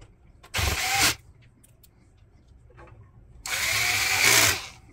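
A power drill driving screws into a desktop computer case, two separate bursts of whirring close by with a quiet pause between them and no talking.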